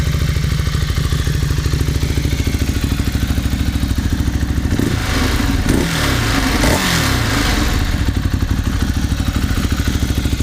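A 2013 Ducati Hypermotard SP supermoto engine running close by, a steady throbbing thrum with a brief rev and shifting whir in the middle before settling back to an even drone.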